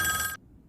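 A telephone rings in a Squid Game scene: one bright, loud burst of electronic ringing that cuts off abruptly partway through, leaving near silence with no voices.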